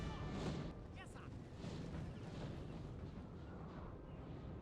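Cannon artillery fire during a video game battle, heard as faint, dense rumbling booms that run together into a continuous muffled barrage.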